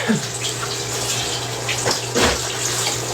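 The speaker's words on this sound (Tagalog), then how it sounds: "What's the water running in the background?" Tap water runs steadily in a home bathroom, a continuous splashing rush heard alone with a low hum underneath.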